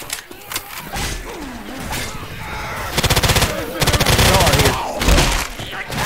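Automatic gunfire from the zombie shooter Left 4 Dead 2, with rapid loud bursts of rattling shots clustered mid-clip and another near the end, mixed with game sounds and voices talking.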